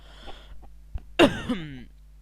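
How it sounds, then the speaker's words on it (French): A single short throaty cough, close and fairly loud, preceded by a faint breath or two, in an otherwise quiet room. "Excuse-moi, j'ai toussé"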